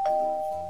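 A doorbell in the Minecraft video game gives one short, clear electronic ding, brief and moderately loud with no voices.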